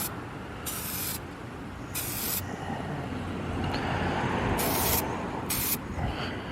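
Aerosol spray of SEM Color Coat misted onto a car's plastic trim in light coats, heard as four short hissing bursts of about half a second each over a steady background rumble.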